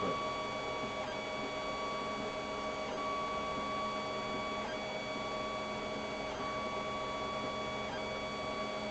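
Anet ET5 large 3D printer mid-print, a steady close hum of stepper motors with tonal whines and faint periodic clicks as the head moves, running alone without talk.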